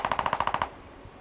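Dual MAC-10 submachine guns fire in a video game, a rapid burst of about nine sharp, evenly spaced shots over half a second, then a short fading tail.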